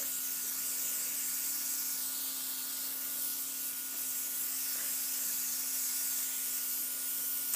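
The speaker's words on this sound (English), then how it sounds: "It's literally really, really tiny pull on the trigger, releasing small particles of makeup." An airbrush sprays makeup with a faint, steady hiss that continues unbroken, with no voices.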